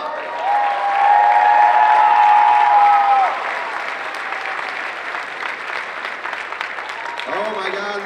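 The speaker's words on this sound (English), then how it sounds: "Let's give them a round of applause." Audience applause for cosplay contestants at a convention costume competition, a dense sustained clatter of clapping throughout, with a steady tone and a rising whistle-like sound near the end.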